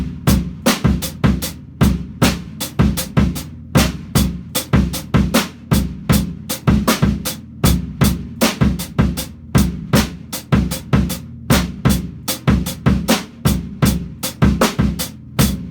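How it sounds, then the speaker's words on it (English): A drum kit plays a steady rock beat, with bass drum notes falling between the hi-hat strokes and regular snare backbeats, sounding loud and close with no talking. "half of the bass drum notes you hear are going to be in the cracks between hi-hat notes."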